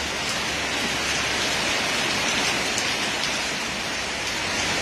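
Heavy storm rain pours down steadily at night in Zaragoza, Nueva Ecija, a dense, unbroken hiss that stays loud and constant throughout with no pauses.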